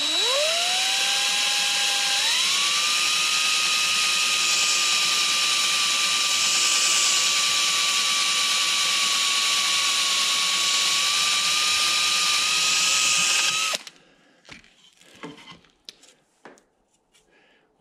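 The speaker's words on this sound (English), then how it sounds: "we've got our drill bit right here. So let's get this thing drilled out." A power drill whines at a steady high pitch for several seconds, spinning up then holding, before stopping abruptly, followed by faint clicks and handling noises.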